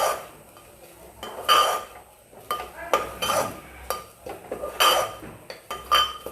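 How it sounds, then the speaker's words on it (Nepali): Masala spices for a goat-meat curry are stirred in a cooking pot, with a metal spoon scraping and clinking against the vessel in quick, uneven strokes at close range. "यसलाई राम्ररी चलाउनु होला। यो डढ्न पनि सक्छ"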